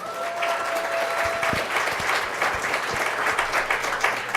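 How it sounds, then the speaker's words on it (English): A round of applause from an audience at an education talk, many hands clapping in a dense, even patter that holds steady from start to finish. "Let's give them all a round of applause."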